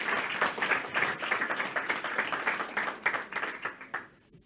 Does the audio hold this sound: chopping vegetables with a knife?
no